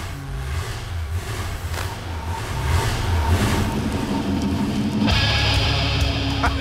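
A Plymouth GTX convertible's engine idles and revs nearby with a steady low rumble, swelling louder midway and brightening toward the end, with no voices.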